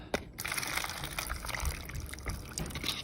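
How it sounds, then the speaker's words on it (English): Hot water pours steadily into a container for cleaning tarnished Tiffany & Co jewelry with baking soda, a soft continuous gushing and trickling close by with no talk. "We're gonna put hot water."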